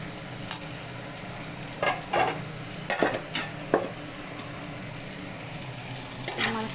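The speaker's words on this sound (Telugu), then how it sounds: "ఈ ఉల్లిపాయలో ఉన్న వాటర్ పోయేంత వరకు మనం ఇలా ఫ్రై చేసుకొని" Carrot and onion frying in a pan, a soft continuous sizzle broken by several short scraping stirs of a spatula, close and fairly quiet, with no talk.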